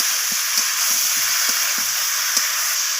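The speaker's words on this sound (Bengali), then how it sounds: "তো আবারও সমস্ত কিছু এইভাবে কষিয়ে নিচ্ছি" Spices and vegetables for egg and vegetable khichuri sauté in a hot pan with a loud, steady hiss. Faint soft knocks from stirring sound at irregular intervals.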